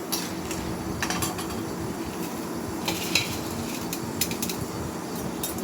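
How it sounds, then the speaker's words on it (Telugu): Chana dal sizzles in a pan with coriander seeds as a spoon stirs it, producing a continuous soft frying hiss dotted with light scraping clicks of utensil against metal. "దాన్ని కొంచెం మంచిగా వేపుకొని అందులోనే శనగపప్పు వేసుకోవాలి"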